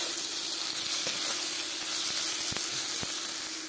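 Potatoes poured into a pan of frying chopped tomatoes set off a steady, close sizzle with a few sharp spoon taps and clicks scattered through it, and no talking.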